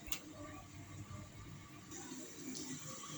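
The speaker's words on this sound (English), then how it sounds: "we have to throw off the water and wash again about 3 times to get it the way we want it" Starchy water poured off rice being rinsed in a pot during Jamaican-style cooking, a steady running liquid wash that continues throughout at close range with a brief clatter near the start.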